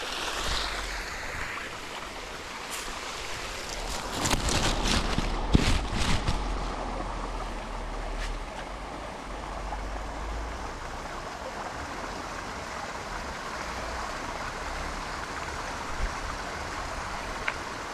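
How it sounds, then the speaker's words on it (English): A small river waterfall pours steadily with a broad, continuous rush of water, close and fairly loud throughout, with some brief louder splashing near the start and no voices. "down there's another part of like the river waterfall"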